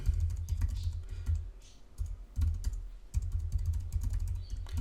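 Quick bursts of keystrokes on a computer keyboard as a password is entered, close and crisp clicking in short irregular clusters with brief pauses between.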